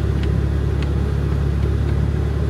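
A car engine hums steadily and close while the driver shifts into third gear, a loud constant rumble with slight changes in pitch and no speech over it.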